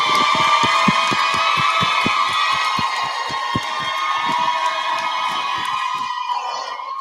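A board of education meeting audience cheers and whoops enthusiastically. The crowd noise is loud and sustained, with rhythmic clapping pulses throughout, before fading at the end.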